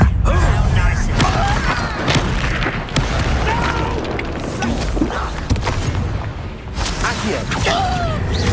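In the Hogwarts Legacy video game, Confringo blasting-spell explosions boom repeatedly amid busy combat noise, with loud bursts, pops and creaks arriving in quick succession over a continuous dense game soundscape.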